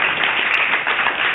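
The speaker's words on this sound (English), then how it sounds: "Join me in giving a round of applause to all those presenters." Applause for presenters at a cricket demo tournament event, a dense steady wash of many hands clapping throughout, fairly loud and close, with no voices over it.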